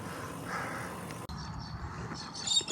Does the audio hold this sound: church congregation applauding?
no